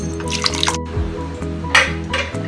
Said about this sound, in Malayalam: നമുക്ക് കുറച്ചും കൂടി വെള്ളം ഒഴിക്കാം